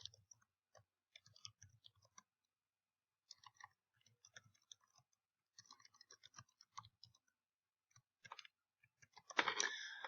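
Someone typing unevenly on a keyboard, sparse clusters of quiet clicks separated by pauses, close and soft, with a louder scratchy burst at the very end; no talking.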